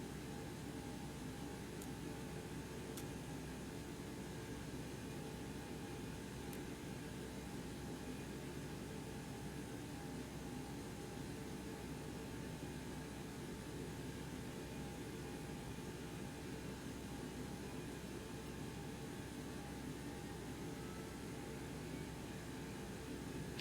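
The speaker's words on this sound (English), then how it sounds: "APU coming on now." Boeing 727-200 auxiliary power unit in X-Plane 11 running as a steady, even mechanical hum with a broadband rush and a faint constant tone, continuous for the whole stretch with no talk.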